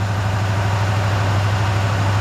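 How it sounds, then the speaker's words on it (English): A Dodge RAM 1500 engine runs with a steady, low, droning idle, heard up close and alone, with a faint uneven flutter in its tone. "I definitely don't like the way that motor's running though."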